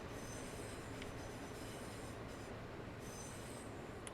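A Class 350 train in the Train Sim World 5 rail simulator rumbles along with a steady, low roar of wheels on track and a thin high metallic squeal, continuous and faint with no voices.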